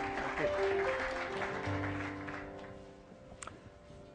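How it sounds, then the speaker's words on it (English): Audience applause welcoming Neil Howe, President of Life Course Associates, to the stage at a presentation, a steady crowd clapping that fills the first few seconds and then thins out. "Please give him a warm round of applause."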